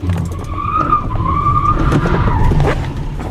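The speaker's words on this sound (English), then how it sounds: "there is enough torque to spin the tires if you're making tight corners out in the street" 2015 Kia Soul EV electric car spinning its tires through a tight street corner: a sustained, loud tire squeal lasting a few seconds over a low road rumble, heard close with no talking.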